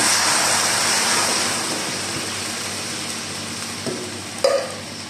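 Coconut oil heats in a pan for ginataang malunggay, giving a steady broad sizzling hiss that slowly eases, with a couple of soft knocks near the end.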